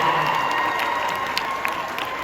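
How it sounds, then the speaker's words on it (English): Students at a school assembly applaud a podium-placing team with steady, dense clapping and some cheering, holding at an even level for the whole stretch. "Give them a round of applause for that."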